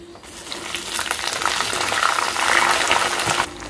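Mustard seeds and chopped green chilies crackle and sizzle in hot oil for tamarind pulihora, a steady dense frying hiss with small pops building in the middle and cutting off near the end.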